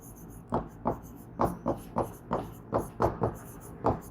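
Chalk or marker strokes on a board during a biology lesson, writing out the word for globulin protein: a dozen short, scratchy strokes in an uneven rhythm, close and fairly clear.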